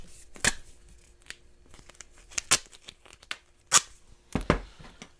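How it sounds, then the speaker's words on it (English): A strip of duct tape is pulled and torn in several sharp, close ripping bursts. The bursts are spaced irregularly, and quieter crinkling and handling sounds fill the gaps between them. No one talks. "Just get a strip of duct tape."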